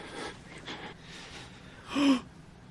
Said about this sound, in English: Why's my guy breathing? Why is my guy breathing?